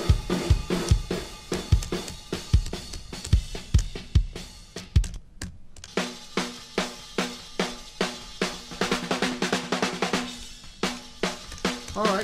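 A snare drum with no effects plays a steady run of sharp, close hits alone, in a quick rhythm with a brief gap partway through.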